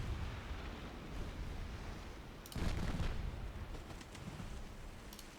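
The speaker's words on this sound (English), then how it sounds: "Oh, that's a torpedo." In a naval warfare game, a sudden heavy burst from a torpedo cuts through low battle rumble and rolls on briefly before settling back into a dull background roar.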